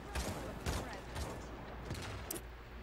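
Gunfire in the game Paladins, several sharp shots spaced out over a few seconds, moderately close, amid a busy mix of game sounds.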